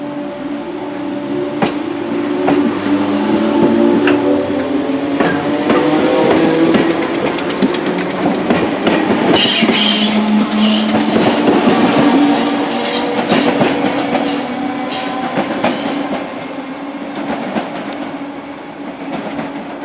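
A six-coach Merseyrail train pulls in with loud rolling rumble, rhythmic clickety-clack over the joints and squealing wheels, close by and sustained as it slows.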